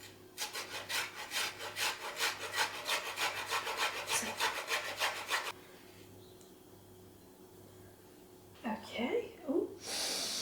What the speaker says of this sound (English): We're going to grate a little bit of ginger.